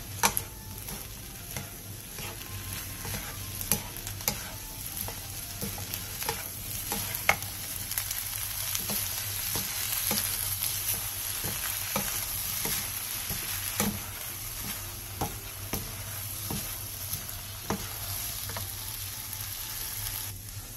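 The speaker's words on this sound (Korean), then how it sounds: "양파가 투명해졌으면 굴소스 반스푼, 진간장 1스푼, 설탕 1티스푼을 넣고 중약불에서 원하는 익힘 정도가 될 때까지 볶아주세요." Onion stir-fried with oyster sauce, soy sauce and sugar over medium-low heat gives a steady close sizzle, broken by frequent scraping stirs and light clicks from the utensil against the pan, with no voices.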